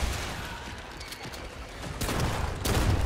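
Rapid bursts of gunfire crackle amid a noisy, chaotic soundscape in the video game Remnant II, with louder volleys near the end.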